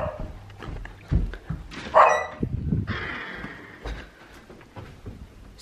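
A dachshund barks indoors, a few sharp yips and woofs in bursts with some whimpering, fairly close and moderately loud against quiet room noise.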